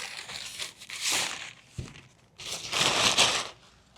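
Paper wrapping pulled off a hydrofoil wing from a 2025 Fliteboard Air Pro board: two bursts of close crinkling and crumpling separated by a soft thump, fairly quiet, with no talking.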